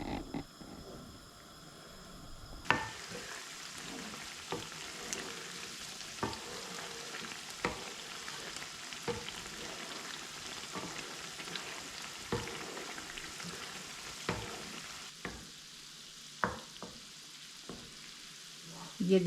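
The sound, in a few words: butter simmering into desi ghee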